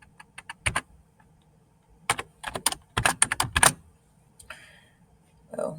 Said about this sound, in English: I'm going to type in the next one.